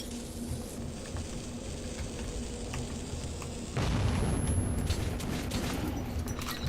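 A frag grenade going off in the post-apocalyptic shooter Metro 2033, heard as a sudden burst midway that leaves a louder, rumbling roar continuing to the end.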